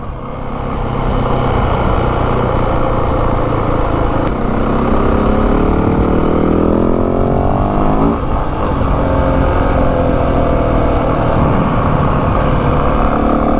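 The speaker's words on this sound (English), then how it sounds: "I love the sound of the bike, man. Having a 450, it's not as brappy as the YZs" A 2025 Yamaha WR450F dirt bike runs with a spark arrestor muffler, its engine droning loud and continuous throughout, with a rising, revving sweep around the middle before it settles back to a steady roar.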